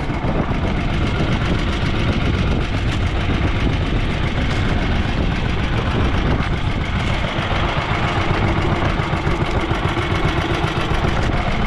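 A loud, steady boat engine drones continuously with a deep low rumble and no pauses, close by and unbroken throughout, on a calm sea.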